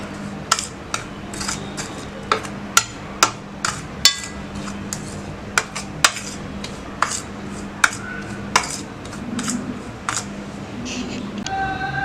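Bottle gourd slices are tossed with pepper powder in a metal bowl, producing sharp clinking and tapping of a utensil against the dish at irregular intervals, close and fairly loud, over a low background hum.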